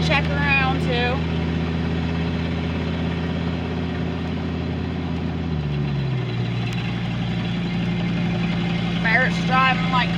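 A car drives along a road at about 50, its steady engine hum and drone running throughout; the engine pitch drops partway through as it shifts, and brief voices are heard near the start and end.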